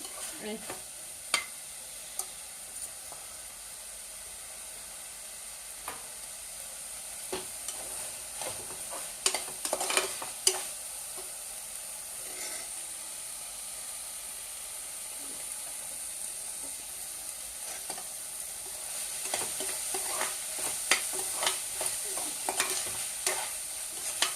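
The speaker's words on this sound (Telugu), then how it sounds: "కొంచెం బ్రౌన్ కలర్ వచ్చే వరకు ఉల్లిపాయలు వేపుకోవాలండి." Onions frying in a pan until lightly browned, a soft continuous sizzle with occasional stirring scrapes and clicks, fairly quiet and with no talking.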